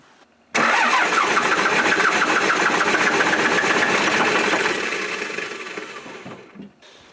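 A diesel engine that had run out of fuel cranks and catches, running loud and steady at close range for several seconds, then fading slightly as it settles, with no voices.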